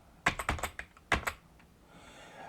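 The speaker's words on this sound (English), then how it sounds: "you type as if you're on a Perkins keyboard" Fingers press keys on a Perkins braille keyboard in a short burst of about eight sharp clacks, followed by quiet room tone.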